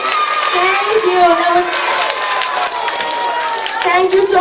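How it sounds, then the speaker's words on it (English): An audience at a storytelling workshop applauds and cheers for a child volunteer, a loud continuous wash of clapping with excited voices and children's chatter running through it. "Can we have a big round of applause for Jitosri?"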